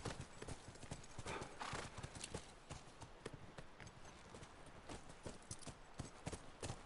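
In the game The Last of Us, horse hooves clop in a quick, busy rhythm, close and fairly loud, with a whinny mixed in and low game sound and a little voice underneath.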